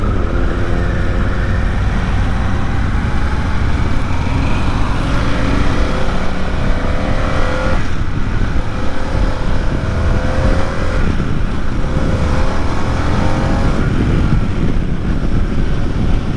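A Harley-Davidson Pan America motorcycle accelerating hard at the top end: a continuous engine roar buried in heavy wind buffeting on the microphone, loud and sustained throughout.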